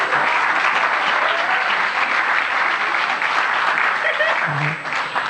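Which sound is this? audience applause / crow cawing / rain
audience applause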